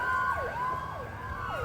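A Hatzola community ambulance siren wails in repeating downward-swooping cycles roughly every half second, loud and close, with steady road rumble underneath and no voices.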